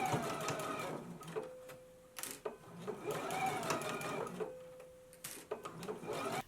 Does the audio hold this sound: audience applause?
no